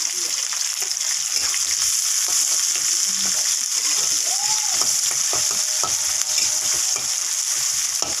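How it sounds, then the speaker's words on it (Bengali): Chopped onions and green chillies sizzle in hot oil over whole crushed garam masala, a constant close crackling fry with occasional stirring scrapes and a faint voice in the background. "পেঁয়াজ কুচিগুলো দিয়ে দিলাম পেঁয়াজ আর লঙ্কা"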